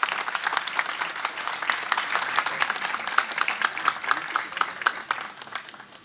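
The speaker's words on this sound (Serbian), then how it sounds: "Molim vas za još jedan aplauz za naše divne volontere" An audience at a film festival's opening ceremony applauds the festival's volunteers with dense, sustained clapping that holds steady for several seconds before tapering slightly.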